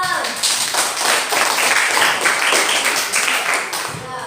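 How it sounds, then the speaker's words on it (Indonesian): Students in a classroom clapping together after a group presentation, loud close clapping with uneven rhythm, mixed with talking voices throughout. "Baik, tepuk tangan."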